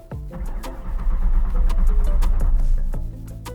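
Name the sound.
Mustang engine cranking, trying to start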